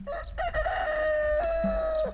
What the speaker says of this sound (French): Le chant d'un coq enroué monta de la plaine.